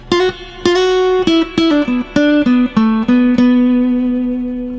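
A guitar plays a minor blues rock lick with a jazzy flavor, about a dozen plucked single notes in quick, uneven rhythm, closing on a sustained ringing note that slowly fades, with no talking.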